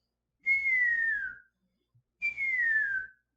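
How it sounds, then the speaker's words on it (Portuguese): A person whistles through closed lips, producing two clear, sustained notes about a second each that glide slightly downward in pitch, separated by a short pause, close and alone against silence. "se você assobia, você fecha os lábios e o ar passa"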